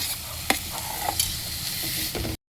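Carrot and cabbage frying in a pan for maida-free momos, a soft continuous sizzle with a few scraping stirs and clinks before the sound cuts off abruptly.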